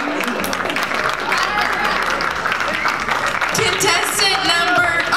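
Pageant audience applauding in a hall, a steady dense wash of clapping throughout with some crowd noise and a few louder claps near the end.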